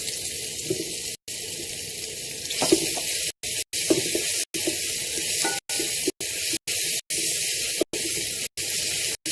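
Curry leaves and fresh ginger hiss and spatter in hot oil over lowered heat, a bright steady sizzle close to the pan, broken by several brief dropouts.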